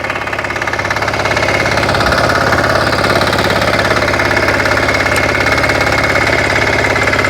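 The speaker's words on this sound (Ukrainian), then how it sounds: "для того, щоб мотоблочок зупинити і заглушити двигун, бросаємо цей важель" A Motor Sich or WEIMA walk-behind tractor engine runs steadily and loud, a close, continuous mechanical chug with vibration and no voices over it.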